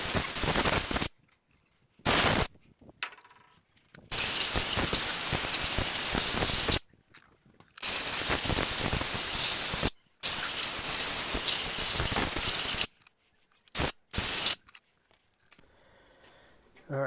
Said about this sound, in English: so I blew this out, got all the debris out of it